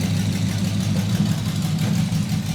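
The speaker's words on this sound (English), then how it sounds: "It lays right down to idle and just purrs smooth." A carbureted engine in a custom 1954 Packard idles smoothly and steadily with a low, even rumble, close by and uninterrupted for the whole stretch.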